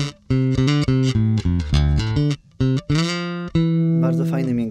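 A Sterling by Music Man Stingray bass with the pickup in its single-coil position plays a run of plucked notes, full and warm, heard alone and close.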